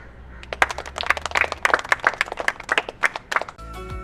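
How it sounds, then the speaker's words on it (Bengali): A person claps their hands in a quick, uneven run of about fifteen sharp, close claps, then the clapping stops and a low electronic hum takes over. "এই হাততালি দাও হাততালি দাও"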